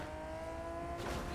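A car in a video game is heard faintly in the distance, its engine a low steady hum that swells slightly near the end of the brief moment.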